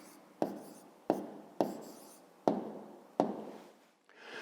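A pen scratches out numbers by hand on paper during a fifth-grade maths exercise, five distinct strokes in an uneven rhythm, each a sharp close scrape fading off, in a quiet room.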